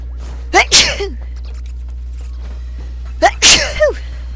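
A cat sneezes twice, a few seconds apart, each sneeze a sharp close burst over a steady low hum.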